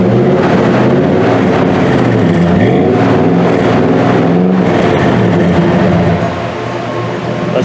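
A rebuilt Dodge engine breathing through a Flowmaster 40 series high-flow muffler with a chrome tip revs loudly and repeatedly close by, its deep exhaust note rising and falling in long sweeps before settling back toward idle.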